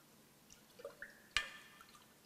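A rose lemonade is stirred, giving a few faint, light liquid sloshes and one crisp clink of a utensil against the glass, all quiet and close.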